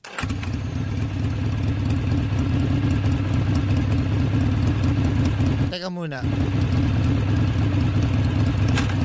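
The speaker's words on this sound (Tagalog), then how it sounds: "Bakit motor ang narinig ko?" A motor engine idles steadily and loudly throughout, with a brief interruption midway; a voice speaks briefly over it.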